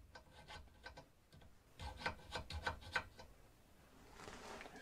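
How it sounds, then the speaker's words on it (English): A metal boring bar sliding and scraping into a freshly reamed bore, a series of short rasping rubs and clicks, close and quiet, with no talk. "Let's find out if the boring bar will go in now."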